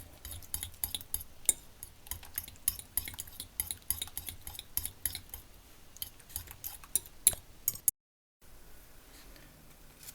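A metal utensil stirs and scrapes in a bowl as pepper is mixed into breakfast mini-pizza ingredients, giving quiet, irregular clinks and ticks close by, with a brief dropout near the end and no talk.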